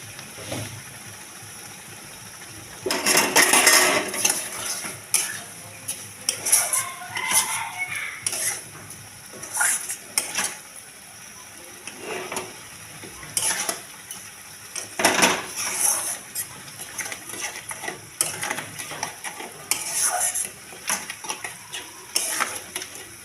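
Pineapple chutney cooked down with sugar in a pan, stirred with repeated scraping and clanking of a utensil against the pan over a continuous bubbling sizzle, close and moderately loud, in uneven bursts.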